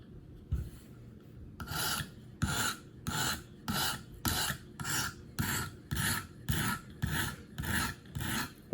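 A Gerber Paralite knife blade is drawn across the stone of a KME sharpener in about a dozen even, rhythmic rasping strokes, close and clear with short pauses between them.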